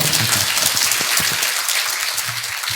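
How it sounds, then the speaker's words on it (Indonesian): Audience applause at a Ramadan philosophy study gathering, loud, dense continuous clapping from a crowd with no talk over it. "Diulangi lagi tepuk tangannya, silakan."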